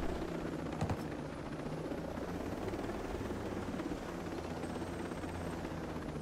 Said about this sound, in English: we literally doing drive-bys in the helicopter